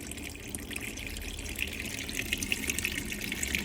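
Water runs steadily from a tap in a Bailey Advance 640 caravan, a constant hissing flow with no pauses and no voices.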